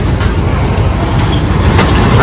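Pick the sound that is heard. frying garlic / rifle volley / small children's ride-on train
small children's ride-on train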